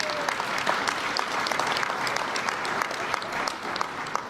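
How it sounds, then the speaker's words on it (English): Crowd applause for city council members at an O'Hare Terminal 3 event in Chicago, steady and moderately loud throughout with dense overlapping claps. "Can you give them a nice round of applause?"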